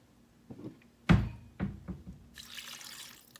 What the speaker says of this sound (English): We're gonna put in some water.